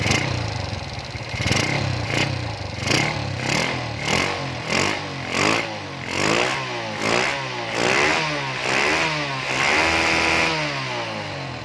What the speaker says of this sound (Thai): ทีนี้เราก็จะลอง บิดคันเร่งดูนะครับบิดคันเร่งดูดันลูกชักดู